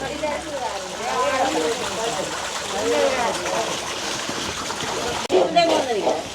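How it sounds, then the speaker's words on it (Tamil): Urad dal being washed in water for vada, with continuous splashing and sloshing of water in a vessel under ongoing talk, plus a sharper splash near the end. "இந்தியாவில் வந்து வடைக்கு உளுந்து கழுவப்படுது"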